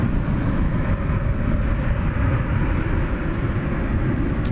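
A Finnair airliner at DFW Airport at night, a loud, steady jet engine roar that holds constant throughout with no talk over it.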